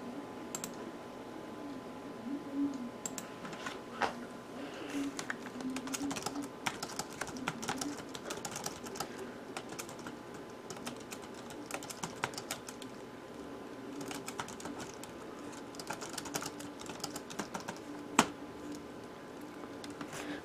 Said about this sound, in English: let's see so we can type something up on here